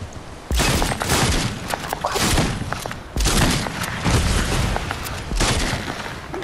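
Submachine gun firing in a video game: loud, close bursts of rapid automatic fire in several long strings with brief gaps, no talk.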